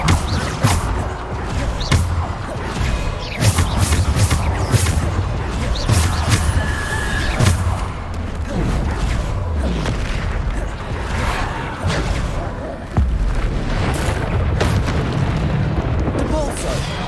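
Bombarda blast spells in the video game Hogwarts Legacy, repeated heavy booms and crashing impacts in a busy combat mix, with spoken voices and spell calls running over the explosions.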